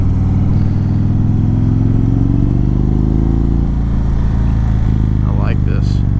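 A 2019 BMW K1600B or 2018 Indian Roadmaster touring motorcycle engine runs steadily up close while riding, a loud low rumble with a brief swell in revs near the end.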